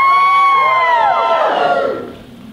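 A loud stand-up comedy audience screams and cheers with high-pitched shrieks and whoops, swelling briefly before fading out.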